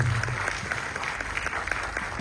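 Audience at a film screening and press conference breaks into steady applause, many hands clapping close together in a dense, even patter with a low murmur underneath.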